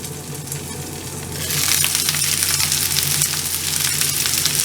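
Crispy noodles pan-frying in hot oil, a loud, steady sizzle that swells and intensifies partway through and crackles continuously up close, with no talking.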